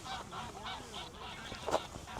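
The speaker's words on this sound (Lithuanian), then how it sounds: "Palauk, žąsį." Geese honk repeatedly near a windmill site in the Netherlands, a string of rhythmic nasal calls at moderate distance with one louder honk near the end.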